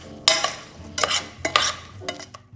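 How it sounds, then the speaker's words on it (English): Cranberry blueberry sage chutney is stirred in a bowl with a spoon, giving four short scraping, clinking strokes with pauses between them, close and moderately loud. "Give it a quick stir."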